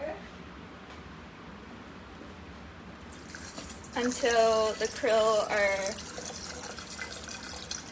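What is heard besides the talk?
filling a beaker with water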